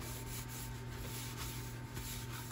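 Cleaner is rubbed over a brass lamp in quick, repeated scrubbing strokes, a close, soft, continuous rasping with a faint steady hum underneath.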